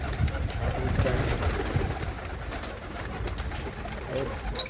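Pigeons cooing in a loft, low repeated throaty coos close by with fluttering and shuffling, a few sharp chirps near the end, and faint voices in the background.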